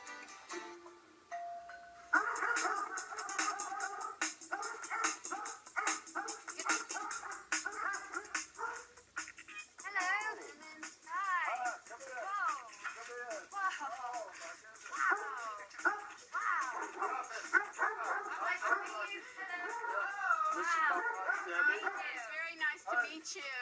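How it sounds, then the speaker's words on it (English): Excited Weimaraner dogs whimpering, yipping and barking in an eager flurry close by as someone comes through the door, mixed with people talking over the noise throughout. "The greeting the dogs gave me when I came through the door, that was excessive."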